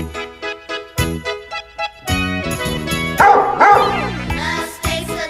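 A dog barks over a children's farm-animals song, several short loud barks in an uneven series at the start, then the bright sung tune takes over.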